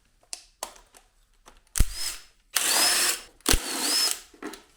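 Power tool loosening and removing the timing belt cover bolts on a Mazda MX-5 engine: several short whirring bursts of varying length with small clicks and pauses between them, close by.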